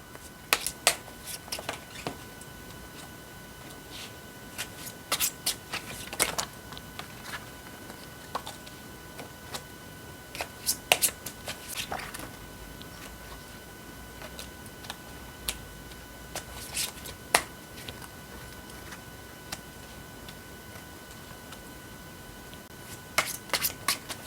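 Tarot cards shuffle and snap close by in quick riffles and taps, scattered irregularly through a quiet room with a faint steady hum and no speech.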